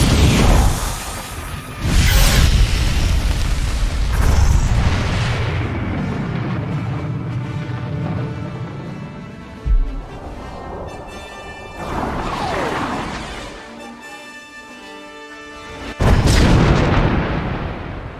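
An artillery barrage in the Star Wars: The Old Republic game: several heavy booming blasts with whooshing shells and rolling rumbles, loud and spaced out, one sharp bang in the middle and another big explosion near the end.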